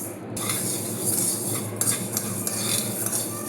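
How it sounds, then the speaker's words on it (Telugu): Ingredients for homemade protein powder dry-roast in a pan, with a spoon steadily scraping and stirring against the metal, producing a continuous rustling clatter with no talking. "లైట్గా ఇలా రోస్ట్ చేసుకోవాలి"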